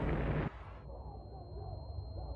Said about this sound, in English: is rocked by a hydrogen explosion similar to that in Unit 1